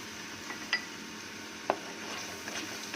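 Masala and yogurt for daal mash being stir-fried in a pot, with a quiet background sizzle broken by a few sharp clinks of a spoon against the pan.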